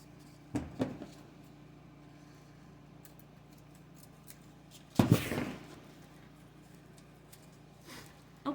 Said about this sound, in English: I'm going to put my stick in so I can cut off the little tail.